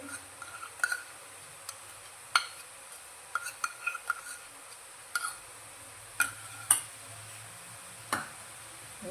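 A spoon stirs fresh milk cream into carrot halwa in a pot, giving light scattered clinks and scrapes at irregular intervals against a quiet kitchen background.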